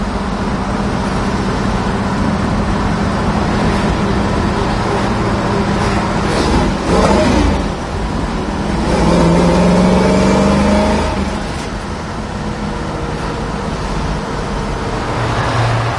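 A 1968 Chevrolet Nova big-block car drives along a road with a steady engine drone and passing roadway noise, the engine note swelling briefly around the middle before settling back to a continuous rumble.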